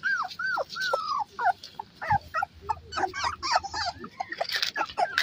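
Young puppies, a mix of Shih Tzu, Beagle and Golden Retriever, whimper and yip in a run of high, rising and falling whines while playing nearby. Brief yaps and soft shuffling come between the whines.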